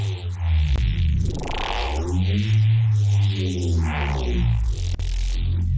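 A heavy, growling neuro bass synth patch made with Kilohearts Phase Plant and Multipass throbs and sweeps through wobbling filter movements, loud and continuous with a deep low end.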